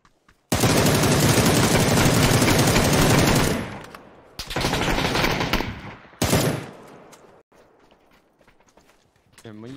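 Video game gunfire crackles in a long, dense automatic burst, then a second shorter volley and a final sharp burst, loud and close, followed by faint clicks and quieter game noise.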